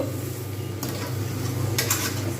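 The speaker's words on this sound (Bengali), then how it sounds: "আমি কিন্তু ভালো করে এরকমভাবে নাড়িয়ে" Grated coconut stirred in a pan while making Bengali steamed palm cake, with a soft continuous scraping and two brief louder scrapes of the spoon against the pan, fairly quiet.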